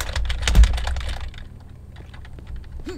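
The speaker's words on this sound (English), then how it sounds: "that's the kind of keyboard that I have, one that you can hear" Computer keyboard keys clack in a fast, dense burst of typing, loud and close, then thin out into a few scattered taps, with no talking over them.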